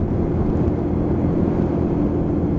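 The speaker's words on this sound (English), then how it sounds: "obviously that engine is working to climb this hill" Lexmoto Michigan motorcycle engine labors steadily up a hill at about 40 mph, a dense low chugging drone mixed with road and wind rumble, continuous and fairly loud with no talk.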